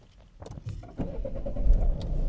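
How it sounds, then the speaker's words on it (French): A DS7 Crossback Performance Line+ 2.0 starts up on a cold day: a brief starter whir and clicks, then the engine catches and settles into a rising, steady idle, close by. "on va commencer par démarrer le véhicule"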